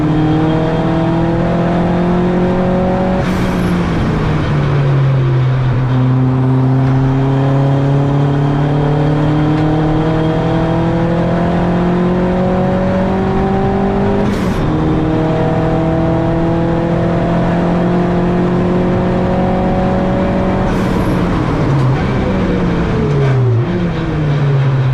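From inside a Turbo Tin Tops race car at Donington, a loud engine drones continuously, its pitch sweeping up through the gears and dropping sharply at three shifts or braking points, with constant road and wind roar.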